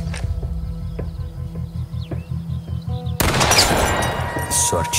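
Rapid bursts of gunfire in the horror video game The Quarry, first sharp repeated shots over a steady low drone, then a dense loud barrage of fire in the second half, with no voices over it.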